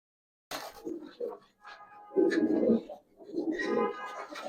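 Two pigeons held in a small space give short, low coos in a few separate bursts close by, with quiet gaps between them.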